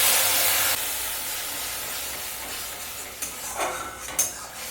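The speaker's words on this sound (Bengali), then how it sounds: "এবারে সর্ষের মিশ্রণটা আমি ঢেলে দিচ্ছি" Mustard and green chilli paste poured into hot oil in a pan: a loud hissing sizzle at the start that drops sharply and settles into a steady softer fry, with a few scraping clinks of a utensil toward the end.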